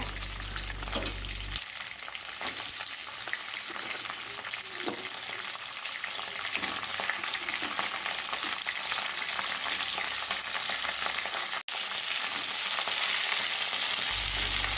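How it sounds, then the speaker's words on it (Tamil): Washed crab pieces fry and sauté in hot oil in a pan for a crab fry, a steady, loud sizzle with stirring that carries on for the whole stretch, with no talking. "வாஷ் பண்ணி வச்ச நண்டு எடுத்து எண்ணெயில் போட்டு வதக்கிக்கோங்க"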